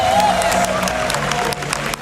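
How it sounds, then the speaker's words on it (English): Event audience at a speedrunning marathon livestream applauding and cheering steadily, a dense wash of claps with a tonal music-like line running underneath. "Crowd, let's cheer for Zelo again"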